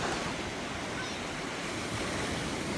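Ocean surf at Crystal Beach in Destin, Florida washes in as a steady, broad rushing roar that fills the whole stretch, with no voices over it.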